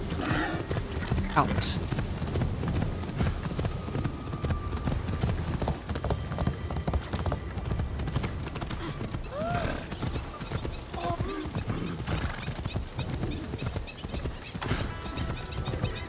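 Horse hooves clip-clop steadily along a town's main street as the horse is ridden, with a neigh and a whinny breaking through; a person talks over the hoofbeats throughout.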